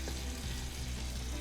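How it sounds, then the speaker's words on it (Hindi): Tandoori-marinated paneer tikka pieces sizzle on a hot tawa greased with oil, a close, continuous hissing fry with faint scraping, no talking. "तो तवा अच्छी तरह से गर्म हो गया है। तेल और ऑयल का मिक्स लगा देंगे। पनीर टिक्का के पीसेस रख देंगे।"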